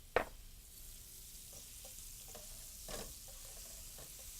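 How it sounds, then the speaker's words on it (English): Sliced sweet white onion sizzles in hot drawn butter in a pan, a steady close frying hiss with a brief clatter at the start and no talking. "Get that good and hot. Add just a little bit of sliced white onion."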